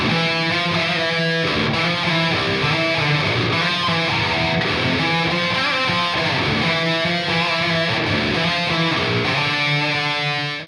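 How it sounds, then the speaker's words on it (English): Distorted electric guitar played through a metal amp simulator modeled on a 6505 Plus, dense chugging riffs with steady, loud sustained chords running continuously with no talking. "this amp sim sounds the most like I remember my 6505 Plus sounding"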